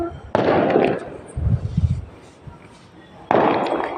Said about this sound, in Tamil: காலேஜில் வெடி வெடிக்குது.